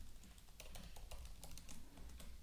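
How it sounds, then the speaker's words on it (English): Computer keyboard keys tapped in short irregular bursts while writing HTML and CSS code, close and fairly quiet, with no talking. "So I'll just type round image."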